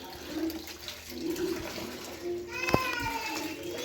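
Pesticide solution being mixed with water: splashing, gurgling water swirling in a container, with a sharp pour or stream near the end, under a voice speaking nearby.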